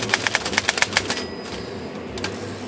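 Vintage Underwood 5 manual typewriter typing, a quick close run of crisp key strikes followed by a carriage bell ding and quieter mechanical clatter.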